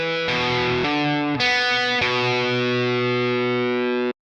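Distorted electric guitar plays a legato riff, with hammer-ons and pull-offs on open strings, loud and alone, a few picked attacks followed by a long ringing chord that sustains before cutting off.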